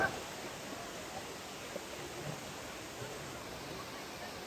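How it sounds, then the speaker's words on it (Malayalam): Thusharagiri waterfall roars as a constant, even wash of broadband rushing water, heard from a short distance at moderate level, with no breaks. "വെള്ളച്ചാട്ടം എത്തിയിരിക്കുന്നു"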